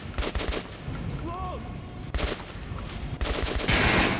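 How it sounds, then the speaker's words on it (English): Gunfire at target dummies in Metro Last Light Redux on Nintendo Switch: several loud close bursts of shots with quieter gaps between them. "Try shooting with the center of the regular dummy's chest."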